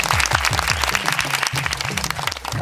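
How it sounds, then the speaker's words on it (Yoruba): Studio audience applauding on a Yoruba-language quiz show about the orishas, a steady wash of hand claps that stays loud for the whole stretch. A musical tone runs along underneath. "Ẹ pàtẹ́wọ́ bá tọ́gbọ́n."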